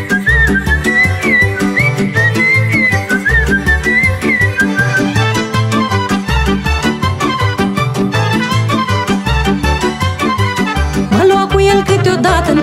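A shepherd's fluier, a Romanian folk flute, whistles a lively tune with quick ornamented notes over steady accompanying instruments, loud and continuous throughout.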